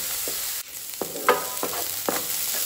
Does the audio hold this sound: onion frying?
yes